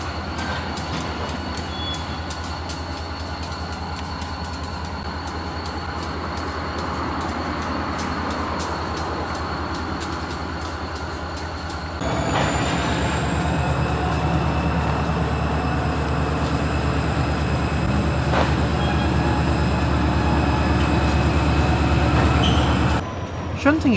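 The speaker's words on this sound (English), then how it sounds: "Shunting a train in the yard today was Ohio Central 3306 and 722, two classic EMD SD40-2s." Two EMD SD40-2 diesel locomotives rumble steadily while shunting cars in a rail yard, with rolling wheels, metallic squeals and clanks from moving cars, a louder engine surge partway through.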